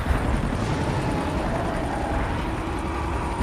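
A helicopter in a film scene hovers with a dense, steady rotor and engine roar, loud and close, unbroken for a few seconds.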